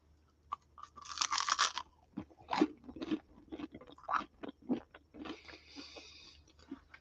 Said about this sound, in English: This is a super crunchy bit of crust, but I want to bite into that so you can hear the crunch